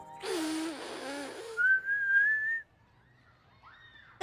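A cartoon boy gives one short, clear whistle that rises slightly in pitch, heard just after a brief vocal sound, then quiet follows.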